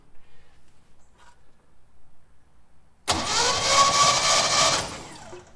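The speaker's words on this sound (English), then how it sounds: "I'm going to turn the truck over and make sure the rotor's turning." The engine of a 1970 Chevy C10 pickup cranks over after a quiet pause, a loud, steady starter churn that runs for about two seconds and then cuts off, close by and with no talk.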